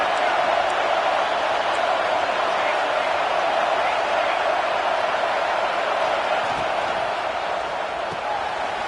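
A football stadium crowd roars steadily behind the home defense as it tries to make a red-zone stop, a dense, loud, continuous wall of cheering with no break across the whole stretch.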